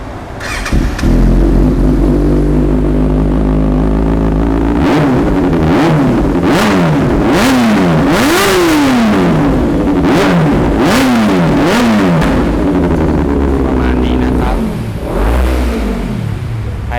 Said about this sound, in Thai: เดี๋ยวลองฟังเสียงเครื่องยนต์กันดูดีกว่านะครับ